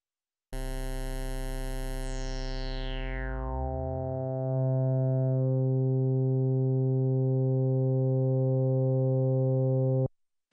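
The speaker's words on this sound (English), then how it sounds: "At high resonances, this can even produce formant-like tones." A resonant Arturia PolyBrute synthesizer tone at high filter resonance sweeps downward with a vowel-like, formant quality, then settles into a loud, steady buzzing drone before cutting off.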